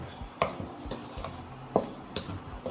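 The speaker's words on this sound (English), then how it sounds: "Mix it together." Sweetened yogurt and sugar stirred together for puff puff batter, a few close scraping and clinking taps of a utensil against a bowl with quiet gaps between them.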